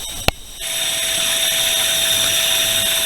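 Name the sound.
air and water running in pond filter pit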